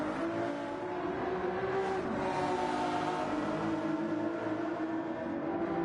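GT3 race cars in a racing video game on a forest track, engines droning steadily at high revs, several cars close together with a continuous, even roar throughout.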